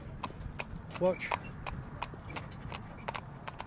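Hoofbeats of a New Forest pony mare trotting in a steady, even clip-clop rhythm, sharp and fairly close, with someone talking over them throughout.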